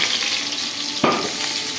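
Green chillies hit hot oil in a pan for an ivy gourd masala tempering, giving a steady close sizzle with one sharp hiss burst partway through and no talk.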